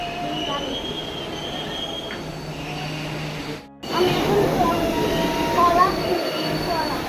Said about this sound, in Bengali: এখন যাচ্ছি নেমে পড়েছি রামপুরহাটে স্টেশনে